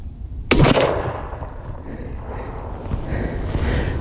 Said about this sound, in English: Okay, up first, this is the Barnes Varmint Grenade. Half inch waterlogged finished poplar.